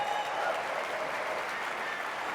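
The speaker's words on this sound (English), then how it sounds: "Let's give a round of applause for Mitt" Audience applause for Mitt Romney at a tech summit, a steady wash of clapping from a crowd, moderately distant and sustained without a break.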